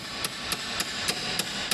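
Hammer striking a coned-end bolt during Toyota Corolla clutch work in a garage; six sharp metallic taps at an even, quick rhythm, close up.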